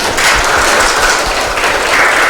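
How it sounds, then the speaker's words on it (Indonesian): Classroom applause during a high school micro-teaching lesson, a steady wash of many hands clapping close by for a couple of seconds without talk. "Beri tepuk tangannya dong."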